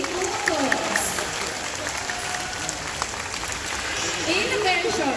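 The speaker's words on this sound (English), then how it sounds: "Our playful applause" Audience applause in the Pools Amphitheatre at Jurong Bird Park, Singapore, during the High Flyers bird show, a steady wash of clapping from a large open-air crowd with faint voices and bird calls beneath.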